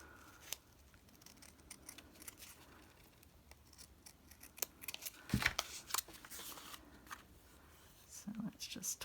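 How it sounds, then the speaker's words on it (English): Scissors snip through fabric while a hood piece for a vintage Red Riding Hood needlebook is cut out, quiet scattered crisp cuts and rustling cloth at close range, with a few louder snips midway and near the end. "So this is the hood of Red Riding Hood that I'm cutting out now."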